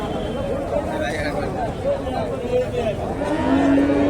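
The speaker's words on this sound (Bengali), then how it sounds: "এখানে একটা গাভী দেখেন বেশ বড় সড়ো গাভী" Cattle lowing at a busy cattle market in Bogura, where Friesian cows and calves are sold, with a drawn-out moo over crowd babble and nearby talking voices.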